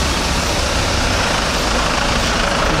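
A Darjeeling Himalayan Railway train pulls into the station with a loud, close, steady engine rumble and broad roaring noise that holds evenly throughout.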